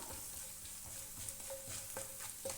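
Crushed fennel and black pepper roasting in a pan for a Kerala-style egg roast, with a soft sizzle and a few gentle scraping stirs repeating about every half second, quiet and close.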